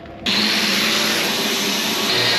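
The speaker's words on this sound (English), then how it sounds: "just grinding like crazy in here" A power tool grinds steadily and loudly in a shop, starting abruptly after a brief quieter moment and then holding a harsh, continuous whine with no talking over it.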